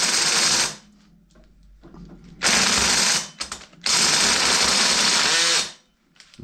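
A drill whirs loudly in three bursts, each running steadily for a second or more, with short quiet gaps and faint clicks between them.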